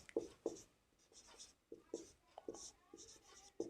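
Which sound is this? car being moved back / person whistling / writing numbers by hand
writing numbers by hand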